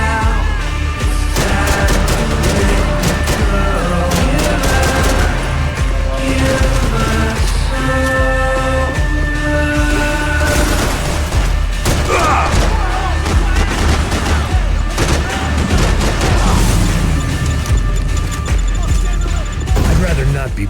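Grenade explosions and bursts of gunfire in the video game Max Payne 3 sound loud and dense, with booms and rapid shots layered over a constant soundtrack that plays throughout.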